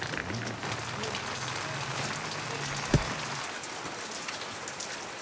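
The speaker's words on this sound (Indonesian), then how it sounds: "Hujannya makin deras." Heavy rain falling steadily, a dense hiss of drops hitting surfaces with one sharp thud partway through, moderately quiet and without speech.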